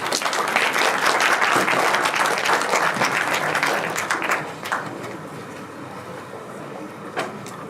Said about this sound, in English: Let us warmly welcome him with a huge round of applause